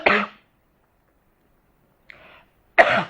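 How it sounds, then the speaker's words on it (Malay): A person coughs, pauses, makes a faint throat sound, then gives a second sharp cough in a quiet indoor setting during a religious lesson. "Maaf batuk."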